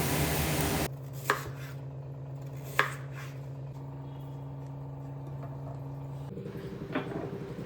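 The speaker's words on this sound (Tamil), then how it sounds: "இந்த சேனக்கிழங்கை இப்போ வந்து கியூப்ஸ் க்யூப்ஸாக வெட்டிக்கணும்" A few sparse knife knocks on a cutting board while cubing elephant foot yam, spaced seconds apart, over a steady low background hum.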